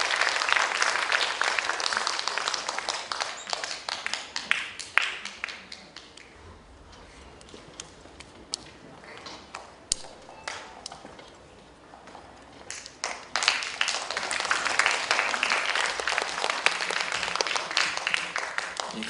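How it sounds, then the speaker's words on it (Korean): An audience at a children's composer showcase concert applauds, loud dense clapping that dips to a sparse patter in the middle and then swells strongly again. "힘찬 박수로 2부의 첫 꼬마 작곡가들을 만나보겠습니다."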